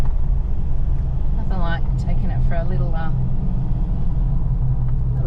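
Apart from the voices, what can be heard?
car driving, towing an empty camper trailer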